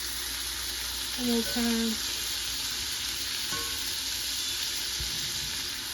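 Butter sizzles steadily in a hot frying pan while noodles cook at home, a continuous close frying hiss throughout, with a brief spoken phrase and a faint clink partway through.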